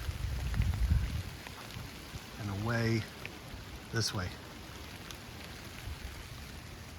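Steady rain patters on a muddy hiking trail at Starved Rock State Park in cold weather, a constant soft hiss throughout, while a person briefly speaks.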